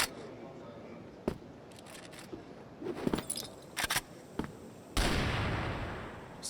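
A CrossFire esports match brings a burst of gunfire: several sharp separate shots in irregular succession, then a louder, longer blast near the end that fades out slowly, like a grenade going off.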